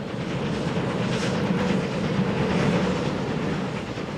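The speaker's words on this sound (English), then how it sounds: "The train puffs its way heroically along spectacular coastal vistas" The Outeniqua Choo-Choo steam train runs along the coast between Knysna and George on South Africa's Garden Route, giving a steady, loud rumble and rhythmic chugging that stays constant without talking.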